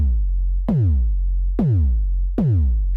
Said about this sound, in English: next up we have the DR Fat. It kind of looks like Dr.